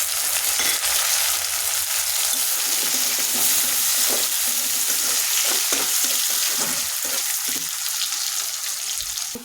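Onions, then added potatoes, fry in a pan with a steady, loud sizzle and crackle. Occasional stirring scrapes run throughout, close up, with no talking.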